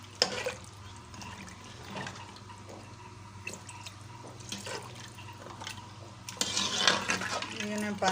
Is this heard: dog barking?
no